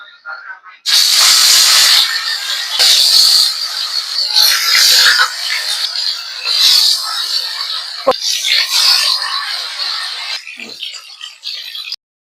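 Marinated quail dropped into hot oil in a pan, bursting into loud, harsh hissing sizzles that surge and ease in waves after a quiet start, very close, no speech.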